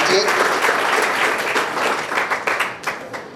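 Loud, sustained applause from a crowd at a national seminar on children's literature, dense clapping that thins slightly toward the end, with a voice mixed in.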